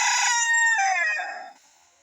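A rooster crows once nearby, a loud clear call that trails off and fades out.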